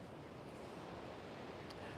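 Waves on an oceanfront shore make a faint, steady wash with light wind rumble, a continuous low hiss without distinct breaks and with no talk.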